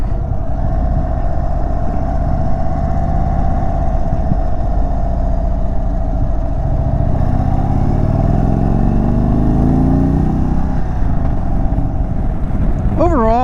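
Indian motorcycles ride out as a group while the rider is on an Indian test bike, a loud continuous engine drone and wind rumble with a rising, falling engine tone, and a rider talking over it.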